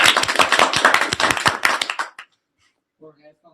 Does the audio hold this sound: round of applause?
yes